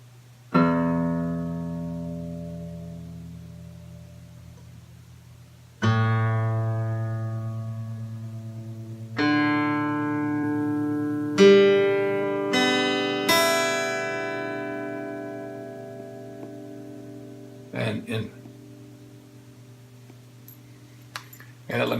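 Acoustic guitar with heavy bass, plucked single notes and chords that ring out and decay, with a few soft clicks near the end.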